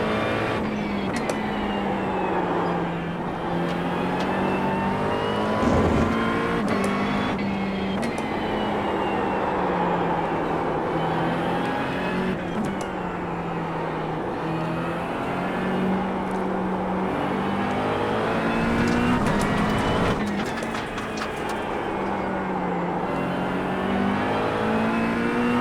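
A McLaren 720S GT3 race car engine in iRacing at The Bend GT Circuit, a loud, continuous harmonic roar that climbs and dips with throttle and gear changes, heard alone with no talk.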